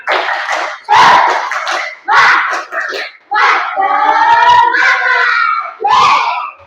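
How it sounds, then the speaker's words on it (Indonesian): Schoolchildren in a classroom perform the tepuk semangat clapping chant, loud rhythmic bursts of claps and shouted chanting in short phrases, ending with a sustained group call. "yuk kita tepuk semangat dulu, tepuk semangat"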